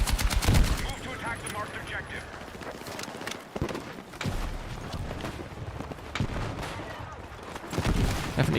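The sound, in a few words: gunfire and explosions in the video game Battlefield 6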